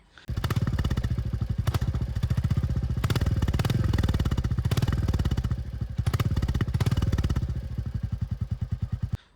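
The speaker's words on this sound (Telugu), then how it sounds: "ఆల్రెడీ కంపెనీ ఫిటెడ్ సైలెన్సర్ కూడా సౌండ్ కూడా చాలా బాగా వస్తుంది" A Royal Enfield Bullet 350 single-cylinder engine with its stock factory silencer thumps at idle and revs, a steady, close, loud pulse that swells in a few throttle blips before settling.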